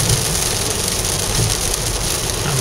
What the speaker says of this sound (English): it's raining like the devil